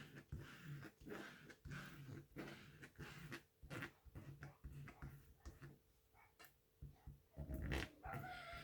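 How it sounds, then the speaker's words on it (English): Several dogs bark repeatedly at a distance, in irregular bursts that overlap and continue throughout. "Do you guys hear all that barking right now?"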